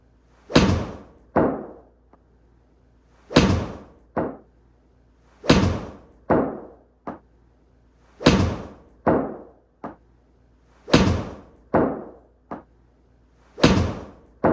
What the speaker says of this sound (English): So let's hit some shots with a wedge and see what the results are.